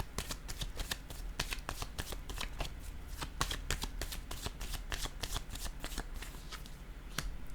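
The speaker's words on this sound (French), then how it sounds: "je vais déposer une autre carte ici" Tarot cards are handled and laid down on a table in a quiet room, giving a quick series of crisp, close slaps and flicks at an uneven rhythm with no voice heard.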